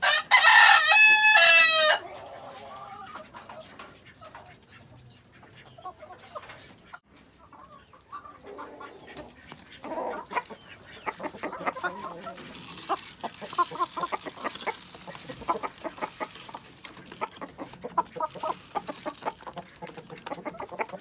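Hens clucking and cackling in repeated bursts on a rooftop coop, one about to lay, preceded by a loud rooster crow at the start, with rustling background.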